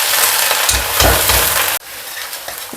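Washed anchovies fry in hot oil, a loud dense sizzle with stirring scrapes, continuous and close, dropping briefly in level partway through before resuming.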